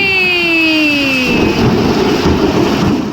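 A falling whistle-like tone fades into a dense, loud wash of heavy evening rain that keeps on steadily.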